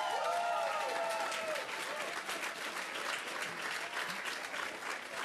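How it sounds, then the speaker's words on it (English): An audience applauds steadily, a dense wash of clapping that stays fairly even for several seconds before tapering slightly. "You just have to say Puff, and everyone is applauding."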